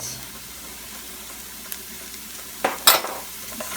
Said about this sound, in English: add your sliced up mushrooms to the pan and give that a little stir